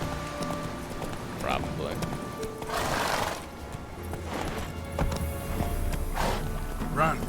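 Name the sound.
horse Roach galloping hooves, from a video game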